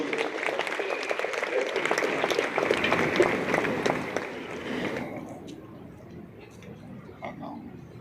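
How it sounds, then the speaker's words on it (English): A crowd at an outdoor women's football competition gives a round of applause, dense clapping for about five seconds before it thins out to a few scattered claps. "Let's give them a round of applause,"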